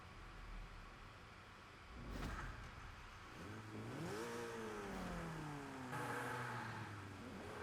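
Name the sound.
Renault 8 Gordini car engine driving, video game Forza Horizon 5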